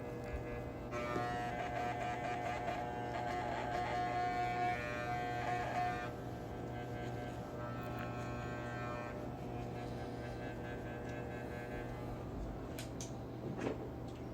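Hair clippers with the lever fully closed buzz steadily and close up while blending out lines on a bald fade, a continuous hum with small shifts in pitch as the blade moves over the head and no talking.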